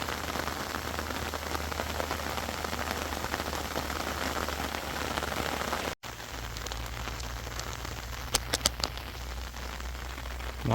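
Heavy stormy rain pours down steadily in an orchard during a navel orange harvest, a dense hiss that cuts off briefly midway and resumes with a few sharp taps.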